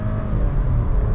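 Engine of a Skoda Slavia 1.0L car under acceleration, a dense low steady drone heard from inside the cabin, with no talk over it.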